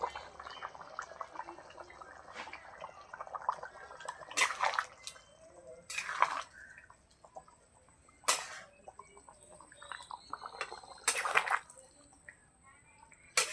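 A meat curry with tomato simmers in a pot over a wood fire, giving off faint, irregular bubbling and popping in soft bursts, with a few louder gurgles and quiet stretches between them.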